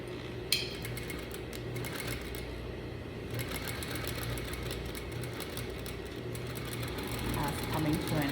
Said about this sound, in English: I secure my stitch again by back stitching